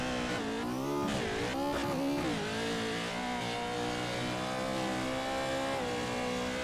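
Pro4 race truck engine at Crandon revving hard and loud, with the pitch climbing and dipping as the throttle is worked through a corner, continuous and close with no talk.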